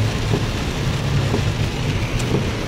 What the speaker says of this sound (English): this is how hard it's raining